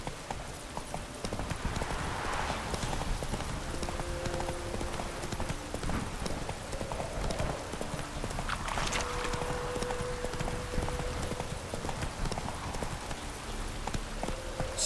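Horse hooves clip-clopping at a trot in The Witcher 3 video game, a steady repeated rhythm of moderate loudness over ambient game background, with no talk.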